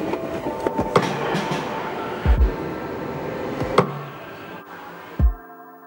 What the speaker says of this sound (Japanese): 地下鉄。